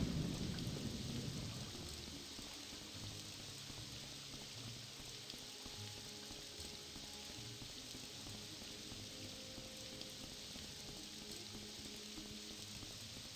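Steady rain pours in a Morrowind Rebirth game storm, a dense even hiss throughout with low thunder rumbling heavily at the start and fainter rolls continuing beneath.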